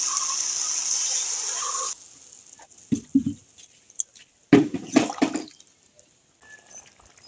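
Water poured into a pan of sautéed potato, cauliflower and peas: a steady rushing pour for about two seconds, then loud, close sputtering and hissing bursts that fade into quiet simmering.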